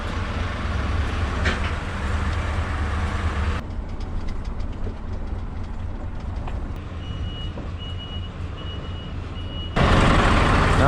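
Scania truck backing up under a tank, with steady reversing beeps over a loud diesel engine drone that dips and then surges back near the end.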